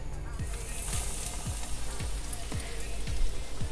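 Steady hiss of a breaded potato cutlet frying in a hot pan, a continuous crackling sizzle with faint rhythmic tapping underneath.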